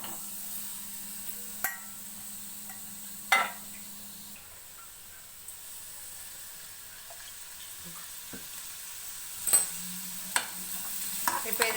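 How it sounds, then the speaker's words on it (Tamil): Tomato, onion, green chillies, garlic and ginger fry in oil with a soft, steady sizzle, broken by a few sharp clinks of stirring near the start, middle and end. A low hum runs under the first few seconds; no one speaks. "ஒரு துண்டு இஞ்சி போட்டு நல்லா ஃப்ரை பண்ணிக்கணும் ஆயில் போட்டு"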